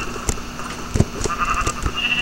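Sheep bleating in a blocky Minecraft-like game, several short bleats scattered over a couple of seconds, fairly loud and close, with faint ambient sound between them.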